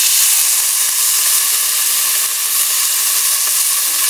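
Birria meat searing in a hot pan, a loud, steady, close sizzle with a continuous bright hiss and tiny crackles throughout, no voices.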